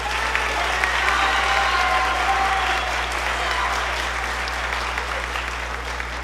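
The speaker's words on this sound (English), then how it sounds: "Give these students one more round of applause." An audience at a school band spring concert applauding students: dense, steady clapping from a large crowd that fills the whole stretch at an even level.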